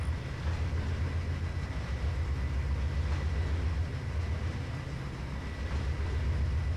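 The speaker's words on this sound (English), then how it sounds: "we heard the train go by, so we're watching it" A train rumbles past in Trainz 2022, a heavy continuous low drone of rail cars rolling by at steady loudness, with no talking.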